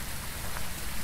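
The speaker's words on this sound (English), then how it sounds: "It's raining." Steady rain falling in the Phasmophobia video game, a constant close hiss of drops hitting surfaces with no talking over it.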